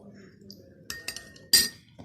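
A metal spoon clinks against a glass or dish while homemade rose water is measured out, a few light, sharp taps with the loudest near the end, faint and close, with a soft murmur in the background.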